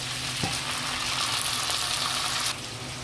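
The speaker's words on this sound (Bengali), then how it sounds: "আমার পেঁয়াজটা ভাজা হয়ে গিয়েছে। এখন আমি এর মধ্যে একটু পানি মিশিয়ে দেব।" Water poured onto hot fried onions in a pan bursts into a loud, steady hiss and sizzle that runs for a few seconds and then drops to a quieter bubbling.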